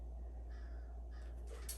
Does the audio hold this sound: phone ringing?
no